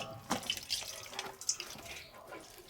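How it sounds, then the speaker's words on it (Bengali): A faint splashing of tap water runs over a cabbage being washed in a sink, with soft irregular drips and sloshes close by. "এবার কপিটা আমি ধুয়ে নেব।"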